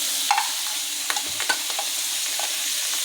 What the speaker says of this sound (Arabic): احط برضو شويه زيت صغنطاطين كده، ونبدا ننزل بالفشه بتاعتي